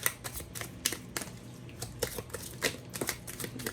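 Tarot-style chakra cards being shuffled by hand in a quiet room, with repeated crisp riffling bursts and soft flutters, close and clear, no talking.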